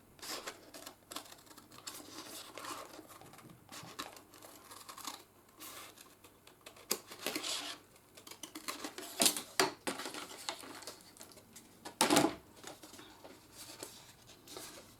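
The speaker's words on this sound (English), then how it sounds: "For some reason my machine is not cutting all the way through all the time." A card cutting machine slicing long two-inch strips of card, not always cutting fully through, gives a quiet run of rapid clicking, tapping strokes with sharper louder cuts near the end.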